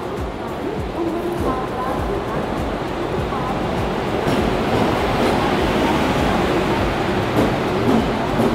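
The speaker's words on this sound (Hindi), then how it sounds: "चलिए देखते हैं दोनों ही ट्रेनों का एक साथ अराइवल।" Two Gitanjali Express trains pull into Bilaspur station at night, filling the air with a loud, continuous rumble of rolling wheels and carriages that swells slightly toward the end, with indistinct voices in the background.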